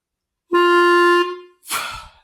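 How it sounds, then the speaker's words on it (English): A single sustained clarinet note, loud and steady with rich harmonics, cuts off as the mouthpiece is pulled out under steady air pressure, then a brief breathy whoosh of released air follows. "pull the mouthpiece out while I'm not going to change my air pressure, and you'll hear a release of air"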